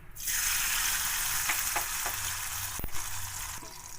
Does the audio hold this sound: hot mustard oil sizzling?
yes